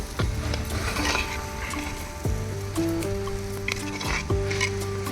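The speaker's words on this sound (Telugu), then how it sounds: "మూడు టమాటాలు కోసుకున్నాను మీడియం సైజ్వి అవి వేసేసుకుంటున్నాను" Three medium-sized chopped tomatoes hit a hot pan for a fish curry, giving a continuous close sizzle with stirring scrapes and a few metallic pan knocks, while a steady tonal hum runs underneath.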